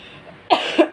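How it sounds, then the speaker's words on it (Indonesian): A person coughs close by, a few sharp, rough bursts in quick succession after a brief quiet lead-in. "Aduh, closingnya batuk."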